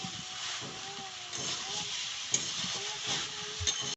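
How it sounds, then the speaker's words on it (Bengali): Hot water poured into vegetables frying for an Ekadashi dish, producing a steady broadband sizzle and hiss with faint stirring knocks, moderately close and continuous throughout. "সবজির মধ্যে আর কি জলটা ঢেলে দিচ্ছে, গরম জল।"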